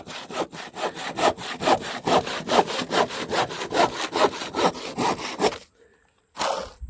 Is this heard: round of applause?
no